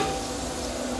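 Onions cooking down in a pan for sausage-stuffed acorn squash give a steady, close, continuous sizzle with a soft frying hiss that holds even throughout, with no talking.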